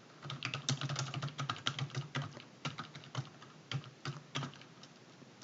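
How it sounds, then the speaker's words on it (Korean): Text is typed on a computer keyboard as rapid, irregular, fairly quiet clicking keystrokes, with short bursts and brief pauses, and no talking. "이제 내용 입력해 줄게요"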